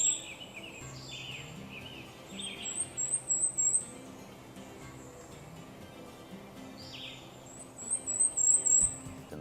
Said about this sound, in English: I just happened to hear a Cape May warbler, like really high-pitched sound up in the tops of the trees.